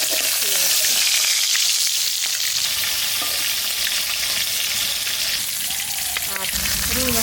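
Food sizzles lightly in mustard oil, with a dense, close frying hiss and crackle throughout, and faint stirring or a voice briefly audible underneath.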